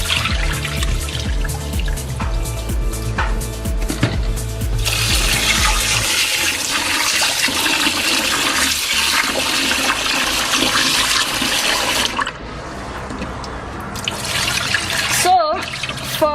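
Rice and lentils being rinsed under running water, with a strong continuous gush of tap water splashing into the pot, shifting in tone as the grains are swirled, ending with a few lighter splashes.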